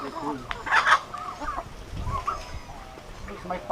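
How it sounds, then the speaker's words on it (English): Chickens cluck on a farm in Palawan where turkeys are also kept, several short uneven clucks at moderate distance, with people talking softly in the background. "Some big turkeys and chickens."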